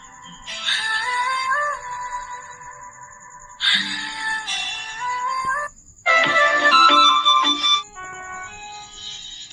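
A Bengali ringtone song preview plays from a phone app in three melodic bursts, each lasting one to two seconds, separated by short gaps, with a steady high tone running throughout and no voice.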